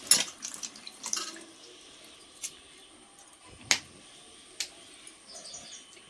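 Seven green chillies are rinsed by hand under a running kitchen tap, with a soft steady trickle of water, light splashes and a few sharp clinks and drips up close.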